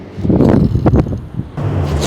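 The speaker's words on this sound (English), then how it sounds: "The wind's coming this way, so I'm gonna let it ride with the wind." Strong gusty wind roars and buffets the microphone, rising and falling in loud rumbling waves.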